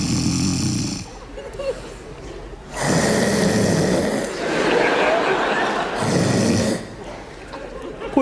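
A person snoring in repeated loud, rasping inhalations, three long drawn-out snores separated by quieter pauses, close and clear.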